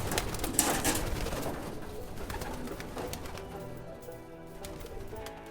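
Pigeons coo softly among a flock at the American Pigeon Museum and Library in Oklahoma City, with a brief rustle of wings early on and a low, continuous cooing throughout.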